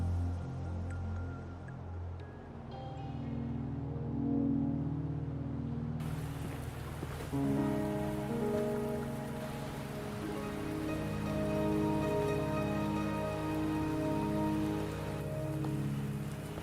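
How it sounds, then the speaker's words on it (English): Steady rain falling in a Wuthering Waves game scene, a continuous hiss layered under sustained tonal music and ambient drones that swell after a few seconds, no speech. "Are you trapped here by the rain?"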